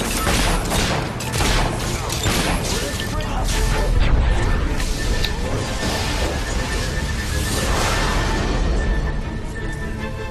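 Battle gunfire in the Xbox 360 video game Fable 3 rattles as a loud, dense fusillade with crashes and booms, sustained throughout and mixed with shouting voices.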